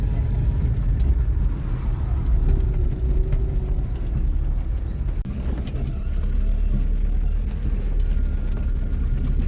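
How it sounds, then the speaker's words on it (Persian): Cars passing on a road near a forest, a loud continuous low engine and tire rumble that stays close throughout with brief rises, no talk. "حالا بذار ماشینا رد بشن."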